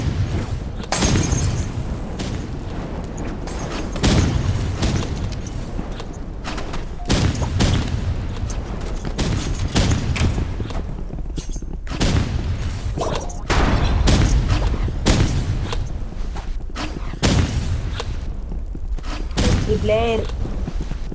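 Grenade blasts in a competitive video game match land as repeated heavy booms and thuds spread across the stretch, with gunfire crackle between them and players talking over the action.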